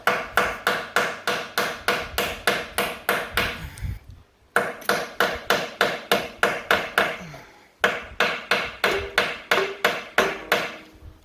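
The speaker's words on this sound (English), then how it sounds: "Now I'm going to pound on my socket rocket, because this one's pretty well rounded off too." A hammer pounds a socket onto a rounded-off bolt on a John Deere A tractor, three runs of rapid, evenly spaced metallic blows, about ten strikes each, separated by short pauses.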